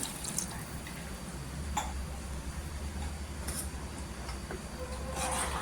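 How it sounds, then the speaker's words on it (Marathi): Hot water pours and drips steadily into a pot of prawn curry, with a low rumbling hum beneath and a few brief splashes, no voices. "गरम पाणी टाकायचं याच्यामध्ये"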